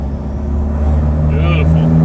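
A Toyota Hilux with a 1KD diesel engine and +30 injectors labors up a hill, its low steady drone building slightly and heard from inside the cab with the window partly down, under continuous talk.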